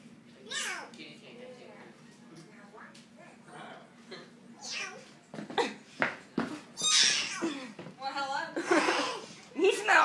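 A cat meows in several short, rising calls, near and fairly clear, mixed with a voice, adults talking and some chuckling.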